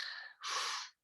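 Breath during a kriya breathing exercise: a soft airy draw of breath fades, then a strong, forceful exhale rushes out for about half a second and stops abruptly, close and alone.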